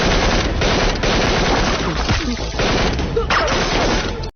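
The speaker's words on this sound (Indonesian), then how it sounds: "Sehingga ia ditembaki ketika hampir sampai di pintu gerbang." Machine gun fire from an Indian action film about special forces battling terrorists, dense rapid bursts blasting loudly and almost continuously before cutting off abruptly.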